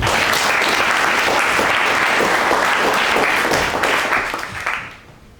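An audience at a gathering breaks into full, dense applause, loud and continuous, then tapers off and fades in the final second.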